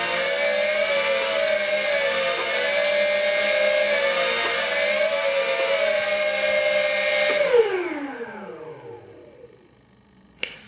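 Engines on a model Lancaster bomber aircraft run at a steady, loud, multi-toned drone, then wind down smoothly to silence near the end, with a faint click afterward.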